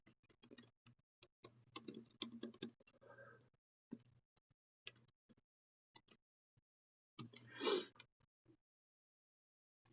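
Keys clack faintly on a computer keyboard during coding practice, in irregular bursts of quick taps separated by pauses, quiet and close, with a breathy sound near the end.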